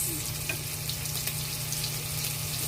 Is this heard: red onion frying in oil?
yes